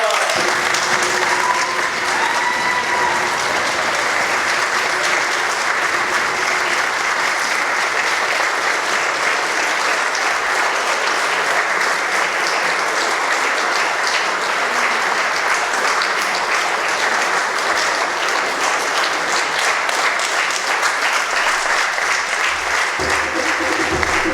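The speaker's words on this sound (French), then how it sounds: "Applaudissons-les très fort." A church congregation at a Mass with confirmations applauds steadily and loudly for the whole stretch, a dense, sustained wash of clapping with faint voices mixed in.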